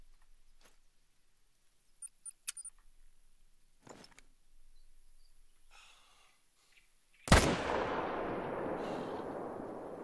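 A single loud, sharp hunting-rifle gunshot in the video game theHunter: Call of the Wild, fired while hunting gnu, with a long echoing decay after quiet ambient rustles and faint clicks.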